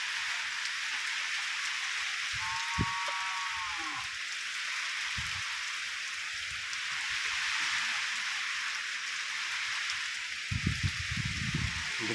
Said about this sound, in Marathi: तर पाऊस चालू आहे.